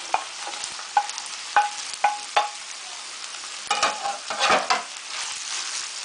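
Diced potato fries in longaniza fat and oil while a spoon repeatedly scrapes and stirs the pan, giving a steady close sizzle broken by sharp clinks and rustling bursts.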